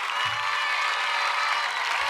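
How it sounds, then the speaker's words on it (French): Crowd of school pupils at an official ceremony cheering and applauding, a steady wash of clapping and voices heard from some distance, moderately loud and even. "Les acclamations"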